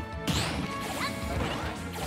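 An up smash attack strikes a raised shield in a fighting video game, giving a sharp crash followed by sustained whooshing impact effects, loud and alone.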